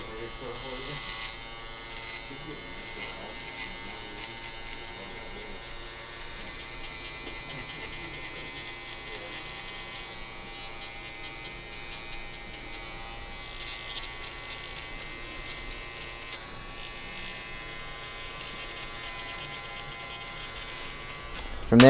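An Andis Outliner hair trimmer buzzes steadily and close up for the whole stretch during a barbershop side-part and mustache cut, a continuous electric drone with a sudden louder bump right at the end.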